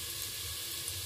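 Garlic frying in a pan for chicken adobo, a steady close sizzle with faint crackling that runs without a break and with no voices.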